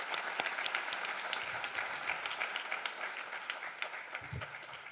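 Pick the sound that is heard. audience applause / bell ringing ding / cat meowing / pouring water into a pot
audience applause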